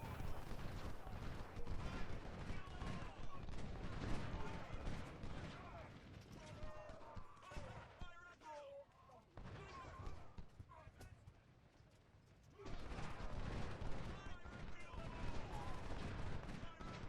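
Rifle shots and battle noise from a Civil War strategy game, Whitworth long-range rifles firing amid a dense, continuous din of gunfire, hoofbeats and clatter, dipping quieter midway before swelling again, with a voice talking over it.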